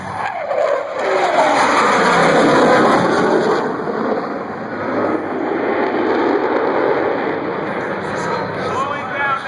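An F/A-18 Super Hornet jet at the 2012 AirVenture airshow gives off a loud, steady, broad roar that swells and holds for several seconds, with an announcer's voice carrying over it.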